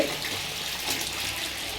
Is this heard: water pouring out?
yes